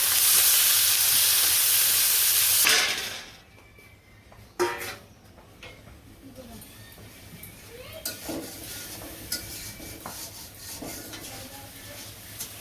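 Green chilies and spices hit hot oil in a pan for a jackfruit-prawn curry with a loud sizzling hiss. After about three seconds it drops to a softer, steady fry with occasional stirring scrapes and clinks.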